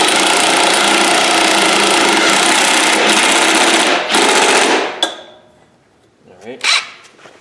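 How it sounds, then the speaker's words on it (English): Impact wrench tightening a bolt on a John Deere 14SB mower, a loud sustained rattling hammer of several seconds that stops abruptly, followed by a couple of short clanks and quieter handling noises. "I'm going to take the impact and tighten this sucker down."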